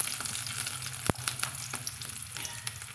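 Steady crackling sizzle of small shallots and curry leaves frying in hot oil with popped mustard seeds, with sharp pops and spits throughout, close up.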